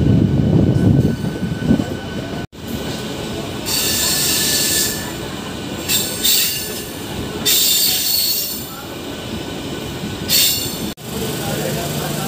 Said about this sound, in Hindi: ट्रेन जा रही है, रुकी नहीं, आई है, एक मिनट खड़ी हुई